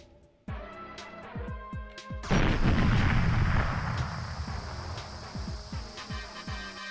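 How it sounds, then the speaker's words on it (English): Tanks getting blown up in the GoldenEye video game: a string of sharp gunfire-like bursts, then a loud explosion that rolls into a sustained rumble while further shots crack through it, with no talking. "Should I start blowing it up right now? Destroy all the tanks."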